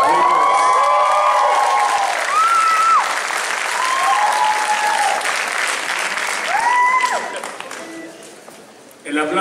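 A crowd applauds a drummer named Brandon at a live Beatles tribute show, steady clapping and some cheering swelling loudly before fading, while an announcer speaks over it through a PA.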